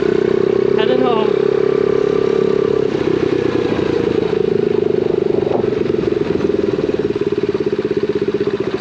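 An X7 Super pocket bike's small engine buzzes loudly and close while being ridden, with a raspy, pulsing tone that rises and falls and a brief whine at the start.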